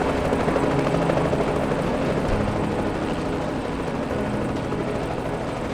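A helicopter hovers and descends in Reverse: 1999, its rotor and engine roaring loud and close in a steady, unbroken drone that fills the whole stretch.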